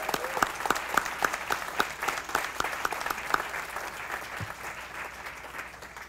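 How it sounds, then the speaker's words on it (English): Applause for the Harper Jazz Ensemble at a university gathering: a steady crowd clapping with crisp individual claps standing out early, then thinning into a softer, denser patter toward the end, heard without talk. "if we could have a round of applause for the Harper Jazz Ensemble"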